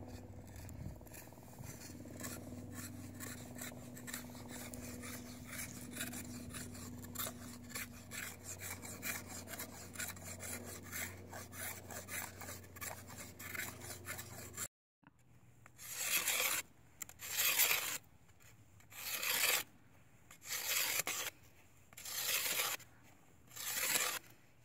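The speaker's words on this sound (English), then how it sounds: "the carving of the top part of the stalk into a spindle" A sotol flower stalk is carved into a hand drill spindle, first with a long stretch of steady scraping and rasping, then with six loud, rhythmic strokes of the blade along the wood, close and alone.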